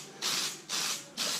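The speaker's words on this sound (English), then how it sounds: "we're going to give this another spray" Three bursts of aerosol spray paint, each about half a second long, hissing close and loud onto a part from a 1978 Victa V196 two-stroke utility mower being rebuilt, with short pauses between them.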